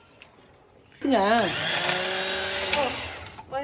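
A kitchen mixer grinder running with no blade inside starts up abruptly after a quiet moment, its motor rising in a pitch sweep and then holding a steady loud whir before it stops.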